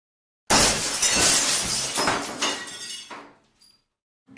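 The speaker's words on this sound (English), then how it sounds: "window just broke" Window glass shattering loudly up close, a sudden crash followed by a spray of breaking shards that trails off over a few seconds, with small bits settling at the end.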